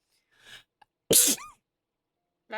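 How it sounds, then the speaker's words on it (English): A single sharp, forceful sneeze bursts out nearby, preceded by a soft intake of breath and followed by quiet silence and a faint breathy sound at the end. "You ever just sneeze so hard you're like, you go cross-eyed and can't, like, see?"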